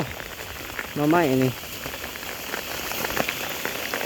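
Rain keeps up a steady, close patter throughout, and a short spoken phrase cuts in over it early on.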